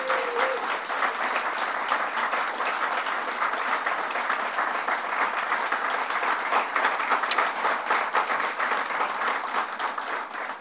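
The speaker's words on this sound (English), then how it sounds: "Let's give her a round of applause." Dense, sustained applause from an audience at a governor's bill-signing event, loud and even for about ten seconds before tapering slightly.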